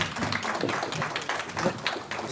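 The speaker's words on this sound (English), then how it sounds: "Let's give a round of applause." A town council candidates' event audience applauds the Ward 6 candidates with dense, continuous clapping that holds at a fairly even level throughout.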